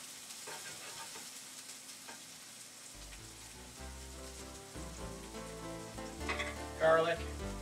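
Onions and ground sausage fry together in a pan, giving a steady, moderate sizzle that carries on throughout beneath background music that swells toward the end.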